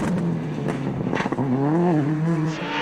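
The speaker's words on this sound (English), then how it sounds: "Listen as we go on board with third place Peter Solberg Subaru" Onboard engine of a 2002 Subaru rally car during the ADAC Rallye Deutschland, a loud, close engine note rising and falling through revs and gear changes, with no talk.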